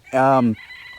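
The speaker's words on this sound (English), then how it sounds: "I hear a rooster crowing, so we know at least Elvis lived." A rooster crows once, loud and near, a strained tonal call that breaks off, followed by faint background chatter.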